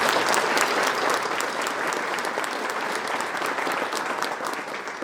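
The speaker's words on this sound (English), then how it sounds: "Let's give them a round of applause." Luncheon audience at the Cheyenne Chamber Circle of Champions event applauds sponsors, a full room of crisp clapping that starts strong and tapers slightly, with no speech heard.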